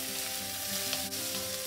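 Tomatoes fry with softened onions in a pan with a steady, close sizzle, joined by a faint stir or scrape near the end.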